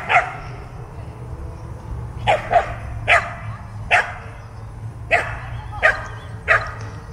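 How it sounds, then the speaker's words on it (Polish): Golden Retriever barking repeatedly while playing, sharp barks in an irregular rhythm over a steady low hum, fairly close and moderately loud. "Ach, to mój ulubiony piesek. Tutaj Golden Retriever."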